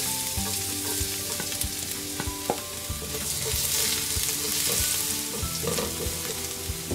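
Garlic sizzling in hot cooking oil in a Tupperware-style wok, a loud continuous frying crackle with stirring clatter of a utensil against the pan, no voices.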